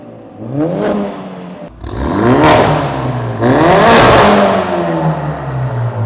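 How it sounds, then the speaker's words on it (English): A Mercedes-AMG A-Class fitted with a Cobra exhaust revs three times in quick succession, each blip swelling to a loud raspy peak and falling back to a burbling idle, close by. "Let's have a listen to what this sounds like and compare it to the stock one."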